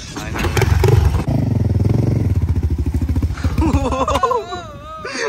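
A four-wheeler ATV engine revs hard nearby, its buzzing note climbing and falling, while voices and laughter come through briefly toward the end.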